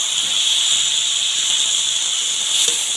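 Young jackfruit pieces sautéing with meat in a hot pan give off a loud, steady hissing sizzle that holds evenly throughout, with no voices.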